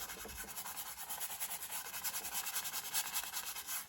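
Brush rubbing oil paint into a canvas for a landscape sky, a soft continuous scrubbing rasp with rhythmic back-and-forth strokes, close and fairly quiet.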